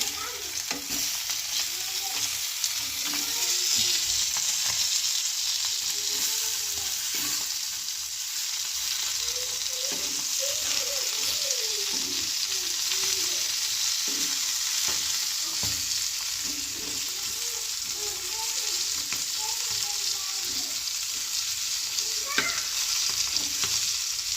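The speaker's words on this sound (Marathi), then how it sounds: "एक साईड चांगली परतून झालेली आहे, आता दुसरी साईड परतूया।" Fish frying in a pan in a village kitchen after being turned to the other side, a dense continuous sizzle with crackling oil, close and steady throughout with no voices.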